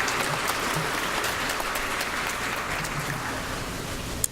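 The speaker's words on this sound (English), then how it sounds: "a big round of applause for Irv Sedlock." A crowd applauding steadily at a chess awards luncheon, a dense patter of clapping hands at moderate distance, with no talking over it.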